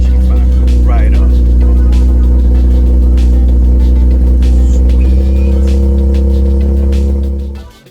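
An Infiniti G35 engine running steadily after a fuel pump install, a loud, close, continuous idle drone that holds evenly before fading out at the end.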